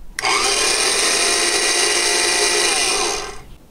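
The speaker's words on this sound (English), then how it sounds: "Alright, so the blender works also." An old kitchen blender whirs at a steady high-pitched drone for about three seconds, starting abruptly and winding down at the end, close and loud with no talking.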